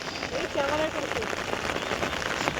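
Steady rain pouring down outdoors, a dense continuous hiss and patter of drops on surfaces, with voices talking faintly underneath.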